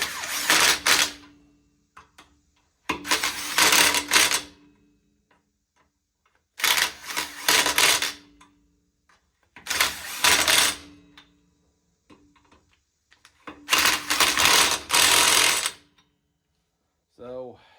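Lug nuts on newly fitted wheel spacers are snugged down with a tool, producing five loud, close bursts of rapid mechanical rattling, each lasting a second or two and separated by quiet pauses.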